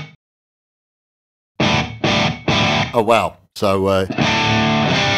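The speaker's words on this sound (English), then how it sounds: "so we can make our own custom reverb" Electric guitar through a tube amp and Two Notes Captor X with a custom room reverb, loud distorted chords ringing out with a long reverb tail after near silence, with a brief spoken exclamation mixed in.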